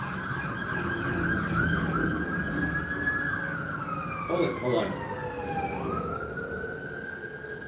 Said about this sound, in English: I just had like 6 emergency vehicles just go by my house